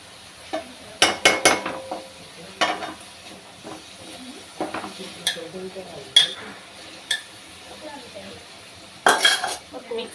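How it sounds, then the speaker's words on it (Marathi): Chickpeas tipped into a pan of frying masala and stirred, with sharp metal spoon clatters against the pan in bursts and a low sizzle between them, close and fairly loud. "आपण आता छोले टाकून घेऊ"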